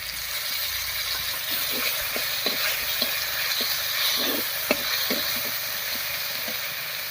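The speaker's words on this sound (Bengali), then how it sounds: "ফোড়নের উপরে মশলাগুলো দিয়ে একটু নাড়িয়ে নিয়েছি" Ground chili, cumin and coriander pastes fry over a tempering while a spoon stirs them. A steady, moderate sizzle runs throughout, broken by rhythmic light scraping taps against the pan. No speech is heard.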